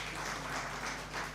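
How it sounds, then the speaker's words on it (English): Applause from an audience at a Uganda Law Society pro bono summit, a steady distant wash of many hands clapping that swells slightly and continues throughout at low level. "I think we should clap for that as well."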